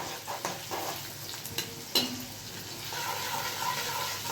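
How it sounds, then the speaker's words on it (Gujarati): Ginger-chili paste hits a pan of frying onions and tomatoes with cumin and asafoetida, giving a continuous close sizzle with a few spoon clinks, and the frying grows slightly louder toward the end. "એ નાખી આદુ મરચાંની પેસ્ટ"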